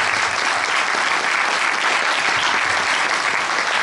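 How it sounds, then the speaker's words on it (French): A crowd applauds Roxane Lundy, a NUPES candidate for Beauvais Nord, at a political meeting in Beauvais, giving dense, steady, loud clapping that fills the room without pause. "Donc on applaudit Roxane et je lui passe la parole."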